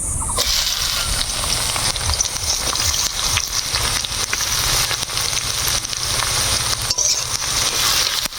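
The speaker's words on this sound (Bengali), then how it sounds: "আমার তেল গরম হয়ে গেলে দিয়ে দিব পেঁয়াজ কুচি" Chopped onions fry in hot mustard oil in a wok, a loud, dense, continuous sizzle and crackle throughout with no pause and no voices.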